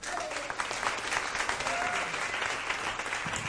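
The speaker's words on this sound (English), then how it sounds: "you're still clapping for the tie, I can tell" A theater crowd applauds at a magic night as the magician Joe M. Turner is welcomed onstage, steady dense clapping at an even level with faint voices mixed in.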